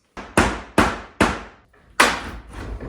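A hammer strikes hard during wall demolition in a room being torn out, landing four loud, close blows at an uneven pace, each ending in a short ringing decay.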